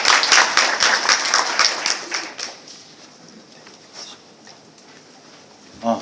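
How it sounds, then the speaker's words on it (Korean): Audience at a cyber security workshop claps to welcome a speaker, a burst of close, moderately loud hand claps that thins out within about three seconds and leaves a quiet room with only scattered sounds. "심재홍 단장님을 큰 박수로 맞이해 주시면 감사하겠습니다."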